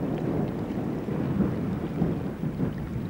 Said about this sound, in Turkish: Bu ne büyük baba? Çığ düşüyor.